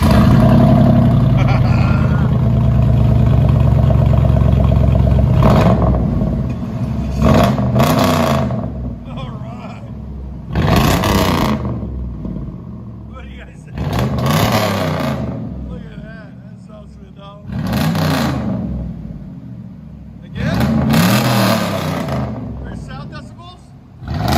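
A 2002 GMC Yukon with a 5.3L V8 and true dual straight-pipe exhaust, idling loud and close, then revved hard in five or six sharp bursts separated by settling idle.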